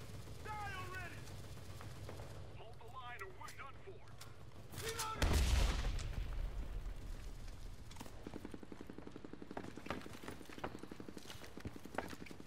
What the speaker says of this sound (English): there's a bomber dropping bombs on our location